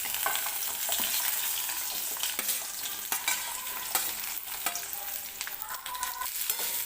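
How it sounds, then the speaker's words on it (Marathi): Chopped onion frying in hot oil in a kadai, a continuous loud sizzle with scattered scraping stir strokes, close and steady, no voices. "कांदा मी तेलामध्ये टाकून घेतलेला आहे आणि हा कांदा आपल्याला हलकासा मऊ होईपर्यंत तेलामध्ये भाजून घ्यायचा आहे"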